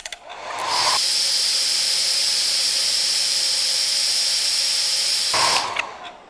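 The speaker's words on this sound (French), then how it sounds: "Moi, j'ai trouvé le vieux sèche-cheveux." An old hair dryer runs steadily for several seconds, a loud, even whooshing hiss with a high whine, switched on after a brief click and cut off near the end.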